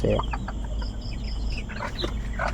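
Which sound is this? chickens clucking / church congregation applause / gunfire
chickens clucking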